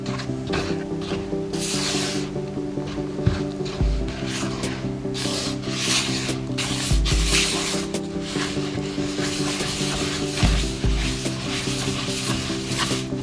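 A spatula folds dry ingredients into wet lemon zucchini bread batter in a bowl, making repeated close scraping and rubbing strokes in a steady rhythm with occasional soft thumps and no voices.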